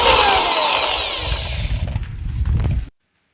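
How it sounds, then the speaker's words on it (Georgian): A power drill fitted with an attachment whirs loudly as it works wood during garden preparation. The whine fades to a rougher, uneven grinding, then cuts off abruptly, leaving silence. "ავიღე უბრალოდ ეგრეთ წოდებული დრელი"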